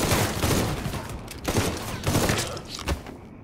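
Gunfire in the Mafia III video game, a loud, close fusillade of rapid shots in several bursts with brief gaps, ending in a sharp final crack and a short tail.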